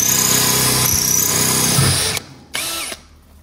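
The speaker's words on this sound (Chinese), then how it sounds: "然后在岩板上打孔的时候呢，我们这个电钻用的是玻璃钻头" An electric drill fitted with a glass bit bores into a sintered stone slab wall, a loud continuous whine that cuts off after two seconds, then returns for one short burst.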